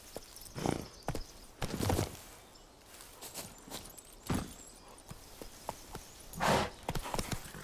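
Roach, a horse in The Witcher 3: Wild Hunt, with hooves clip-clopping in irregular clusters of thuds, some louder and closer, alongside faint clatter and no talk.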